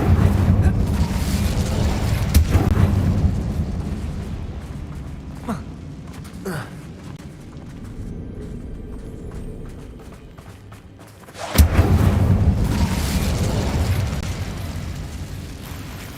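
Fire spells crackle and burst in the video game Hogwarts Legacy. There is a loud whooshing burst at the start, fainter rumbling through the middle, then a sharp flaring eruption near the end.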